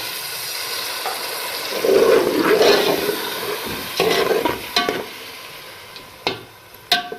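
Water poured into a hot pan of softened fried tomatoes, giving a sharp sizzling hiss in a couple of bursts followed by brief stirring and clinking of utensils.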